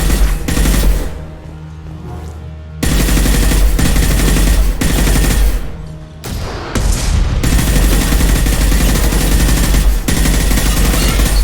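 Loud, sustained automatic gunfire in the sci-fi shooter Mass Effect Legendary Edition, rapid bursts rattling almost continuously with a brief lull and heavy low-end thumps, dense and close.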